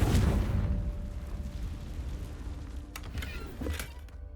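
A Confringo spell explosion in Hogwarts Legacy bursts loudly at the start, then rumbles and fades over a few seconds, with faint creaks and small clatters toward the end.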